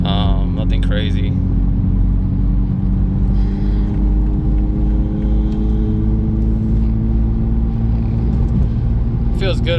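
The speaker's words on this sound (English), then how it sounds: "Give you some light throttle action." A Toyota A90 Supra's engine under light throttle, a steady low rumble and drone heard from inside the car, with a brief higher whine near the start and end.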